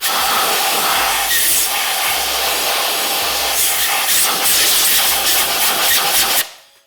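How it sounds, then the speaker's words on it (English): Aerosol cleaner sprayed into an engine cylinder during piston ring installation, a loud close steady hiss lasting several seconds before cutting off abruptly. "Then we're going to spray it down one more time after wiping it out."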